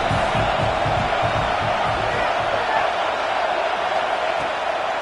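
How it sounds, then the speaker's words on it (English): In the College Football 26 video game, a home crowd roars in a dense, unbroken wall of cheering that stays loud and steady throughout, with no distinct voices breaking through. "Man, this crowd really affecting the football game."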